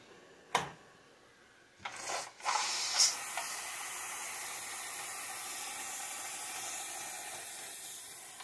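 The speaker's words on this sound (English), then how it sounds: "about 10 minutes of steam" A few sharp clicks and short bursts give way to a continuous, even hiss of escaping steam forming a polystyrene foundry pattern, holding steady to the end.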